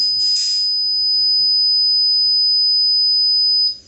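A MikroTik router's Netwatch alert sounding when a network interface is disabled, a loud steady high-pitched electronic beep tone holding for several seconds with faint background noise before cutting off.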